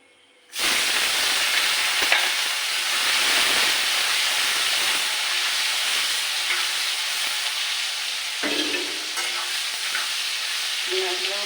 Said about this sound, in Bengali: ভাজি করে নেওয়া হবে ভাজি করে তুলে নেবো